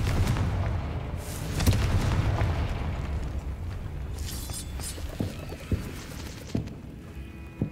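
A Confringo fire spell explodes in the Hogwarts Legacy video game, a loud rumbling blast with a low boom that decays over several seconds, followed by a few sharp pops and cracks.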